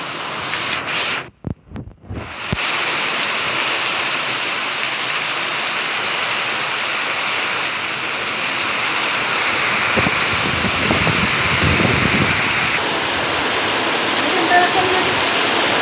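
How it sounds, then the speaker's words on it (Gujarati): Heavy rainwater rushes and pours in a steady, loud roar after a downpour, continuous throughout with a brief handling disturbance near the start. "મિત્રો ફૂલ પાણી નીકળી ગયું."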